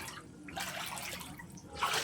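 Flood water flows in and around a house during rain, heard as a faint, continuous wash of splashing and trickling liquid close by, with no voices.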